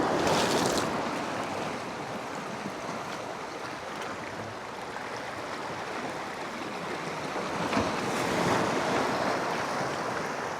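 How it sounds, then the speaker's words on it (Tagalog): Big ocean waves roll in at a shoreline where someone is lure fishing, making a continuous roaring wash of surf mixed with wind buffeting the microphone and swelling louder near the end, with no voices. "Doon tayo sa may malalaking alon."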